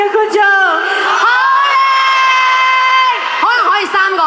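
Fans in the upper seats of a mall event shout loudly together in sustained, pitched group yells, rising and falling with whoops near the end.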